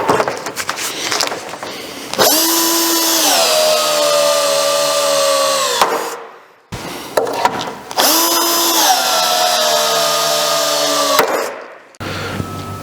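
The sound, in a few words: power tool riveting a panel on a Mazda MX5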